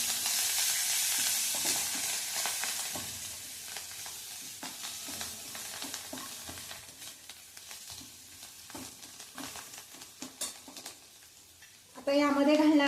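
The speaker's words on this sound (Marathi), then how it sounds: "ही कोथिंबीर सुद्धा छान परतून घ्यायची." Chopped coriander sautéing in a hot pan with hing and turmeric, a hiss that fades from loud to faint under scattered spoon clicks and scrapes, ending with a short burst of voice.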